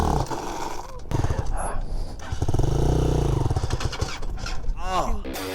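A Hawk 250 Chinese motorcycle engine revving and roaring up close, rising in a steady sustained drone through the middle, with people talking over the start and end.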